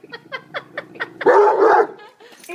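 A dog named Salvador gives a run of quick, sharp barks that build into a loud, strained yelp or growl, then trail off into softer whimpering, all close up.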